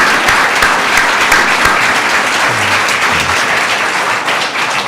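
Sustained applause from an evening audience at a literary event, dense and even throughout, with scattered louder claps near the front and no voices over it.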